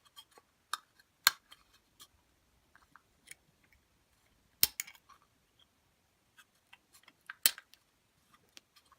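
An X-Acto knife trims small tabs off a 3D-printed plastic adapter, giving sparse, sharp little clicks and snips close by in a quiet room, with no talk.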